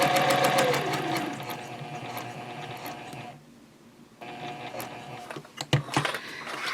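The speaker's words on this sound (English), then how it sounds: "I'm going to sew up this other side on the adjacent point" A sewing machine stitches along the side of an elf Christmas stocking in a close, steady run that stops briefly and then resumes, with a few sharp clicks near the end.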